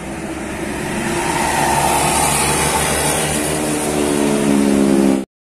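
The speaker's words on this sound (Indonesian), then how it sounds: "Melintas kembali bus Harum Prima." The Harum Prima tour bus passing by on a road at Galendo, Ciamis: a loud, close diesel engine drone with rising revving tones building over a few seconds before an abrupt cut.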